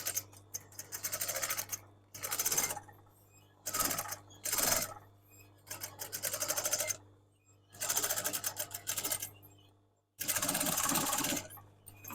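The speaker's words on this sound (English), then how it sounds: "this is just going to be stitched underneath that overlocking" A sewing machine stitches the lining of a crochet bag under the overlocking, running in stop-start bursts of rapid mechanical clatter with short pauses between them and a steady low hum underneath.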